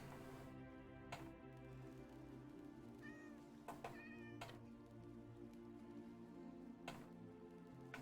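Cats in the Minecraft video game meow repeatedly in short, separate calls scattered over a steady low background hum, with no one talking.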